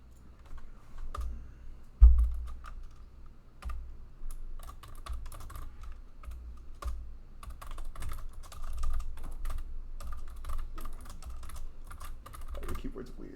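Steady typing on a computer keyboard with an unusual feel, dense key clicks running throughout at moderate loudness, with faint background voices and a low hum underneath.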